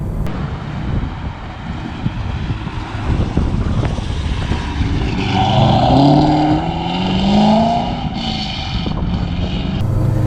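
A loud C5 Corvette Z06 engine roars steadily at wide open throttle, with a rising, revving exhaust note that swells and falls, close and continuous for about ten seconds.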